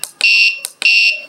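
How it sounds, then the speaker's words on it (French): An Arduino buzzer triggered by a joystick button gives loud, shrill electronic beeps: a short chirp, a long tone, another short chirp, then a second long tone, close and clear. "Donc si j'appuie sur le klaxon, ça va émettre un bip."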